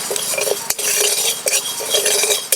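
Parboiled rice dry-roasting in a pan, stirred with a metal spoon that rasps and clinks continuously up close, with grains rustling throughout.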